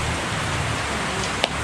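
Steady rain falling in a rural province of Occidental Mindoro, a continuous broadband hiss with no voices, a single brief tap near the end.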